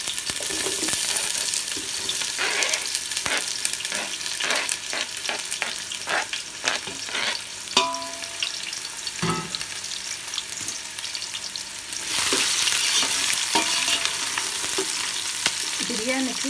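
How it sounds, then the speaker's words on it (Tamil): Onions frying in a pot for chicken biryani, with a steady dense sizzle throughout and repeated scraping stirs in the first half. The sizzle grows louder and brighter for the last few seconds. "பிரியாணிக்கு வெங்காயம் நல்லா பொறிஞ்சு வரணும், அதனால் கொஞ்சம் நேரம் விட்டு நல்லா வதக்கணும்"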